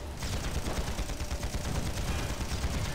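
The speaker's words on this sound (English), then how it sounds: "Cannon fire coming onto the gate" Cannon fire pounds a gate in the online game Panzar, a dense, continuous barrage of booming blasts and rumble filling the whole moment.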